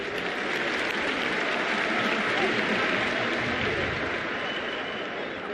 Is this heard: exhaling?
no